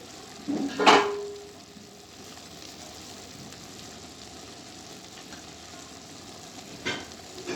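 Red chilli hits a pan of ghee with garlic and ginger, a sharp clatter at the start settling into a soft, even sizzle, with a second small clatter near the end.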